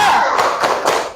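Students in an online class give a short rhythmic spirit clap at the teacher's prompt, a few quick close claps with a thumping quality and faint voices mixed in.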